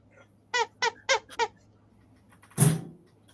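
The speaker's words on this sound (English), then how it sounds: "Got good sound. It's a Cupie squeak." A vintage Kewpie doll squeaker toy gives four quick, evenly spaced squeaks, followed after a pause by a louder, breathier squeeze, close and alone in a quiet room.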